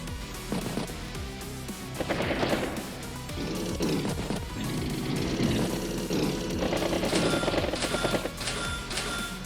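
Neo tank attack animation from the strategy video game Advance Wars By Web: loud, busy game audio with crashing, rumbling hits and mechanical bursts running for about ten seconds, thick layered effects throughout.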